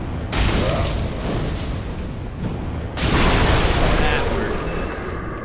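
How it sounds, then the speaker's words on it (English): Exploding barrels in Dark Souls 3, two heavy booming blasts a few seconds apart, each erupting suddenly and rumbling on, loud and close, with a brief voice over them. "Exploding barrels for the win."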